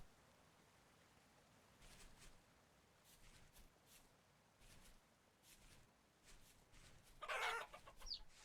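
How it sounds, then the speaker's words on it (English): Chickens clucking in the video game Vintage Story, scattered soft clucks across a quiet background, ending in a brief louder flurry of squawks as the birds are spooked. "Spook the chickens."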